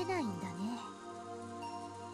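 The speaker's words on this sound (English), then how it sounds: "As we listened to the sound of the rain" Soft rain sound effect from the Umineko visual novel video game, a faint steady patter under a brief melodic tone at the start.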